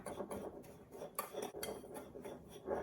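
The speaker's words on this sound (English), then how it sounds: "salt, coarse salt, Chinese 5-spice, and garlic powder. Whisk this up real quickly." A whisk clatters against a bowl while mixing salt, coarse salt, Chinese five-spice and garlic powder, making quick, light scraping and clinking strokes, faint and close.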